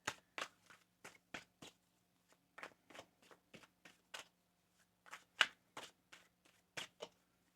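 Crisp, rapid bursts of tarot cards being shuffled, a dozen or so short riffling flicks in an uneven rhythm, close and fairly quiet, with no talking.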